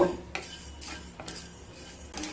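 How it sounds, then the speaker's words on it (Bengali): Whole spices and black pepper dry roast in a pan for a stuffed red chilli pickle, giving soft scraping and clinking stirs at irregular intervals over a quiet steady background hiss, with no talking. "এবার মশলাগুলোকে খুব ভালো মতো ভেজে নেব।"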